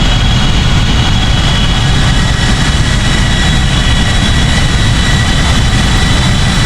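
Flight Factor Airbus A320 jet engines in the X-Plane 11 flight simulator: loud, steady broadband turbine roar with a constant high whine, unbroken throughout.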